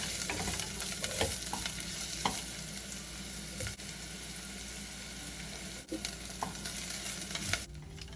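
Ginger and onions frying in a pan for East African fried rice: a steady close sizzle runs throughout, with scraping stirs and occasional clinks of a utensil against the pan.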